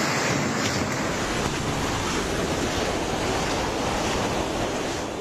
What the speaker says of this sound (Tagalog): nanlalaban sa hangin at alon ng floating cottage na nakatali sa daungan